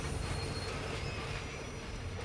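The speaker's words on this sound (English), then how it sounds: "There's a train." A train in the video game Dishonored 2 rumbles past, rattling cars and screeching wheels forming a continuous dense roar with a high metallic whine, steady and fairly loud, with no voices.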